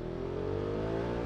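Ducati Monster V2 motorcycle engine revs close by with a steady, slowly rising growl, a short continuous burst with no talking.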